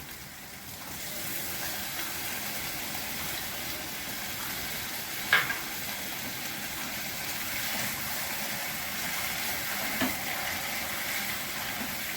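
Water poured into a pan of frying taro stolons in oil, a steady close sizzle hissing throughout with a couple of faint utensil clinks.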